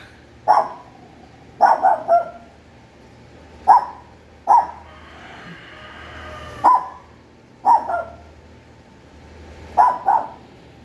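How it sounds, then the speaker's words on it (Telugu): A dog barks in sharp, loud single and double barks spaced a second or two apart, close by on a farm in Wafra, Kuwait, with quiet gaps between them. "కుక్కలు కూడా ఉన్నాయి మచ్చా."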